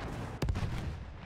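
Big guns firing in Battlefield 1, a heavy booming double report in quick succession that rings out over constant battlefield background rumble.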